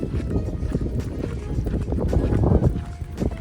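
A boat moving on the Salween River gives a steady low rumble mixed with wind buffeting, continuous and fairly loud from close by throughout.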